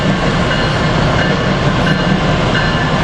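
An Amtrak ACS-64 electric locomotive, engine 609, leads a regional passenger train toward Philadelphia, passing close by with a loud, steady rumble and rolling wheel clatter throughout. No voices are heard.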